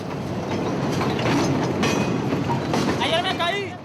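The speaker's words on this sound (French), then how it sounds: "Les trains qui montent vers le nord se remplissent peu à peu" A freight train in Mexico rumbles past with rhythmic clatter and metallic squeals from the wheels, loud and close, with voices mixed underneath.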